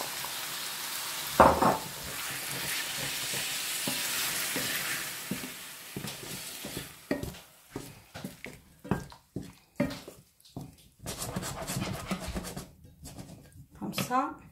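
Aubergines and tomato sizzle loudly in a pan at first, then the frying continues with bursts of stirring and scraping while someone speaks over it.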